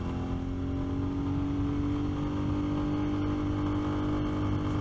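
A 2023 Royal Enfield Classic 350 Dark Stealth motorcycle climbs a hill in second gear without hard throttle, its single-cylinder engine giving a steady, even drone throughout with no talk.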